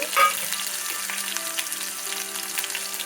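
Cumin seeds sizzle in hot oil in a pan, a close, continuous hiss and crackle with a brief louder burst at the start.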